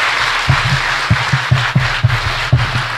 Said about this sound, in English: We're going to try to keep it down on the applause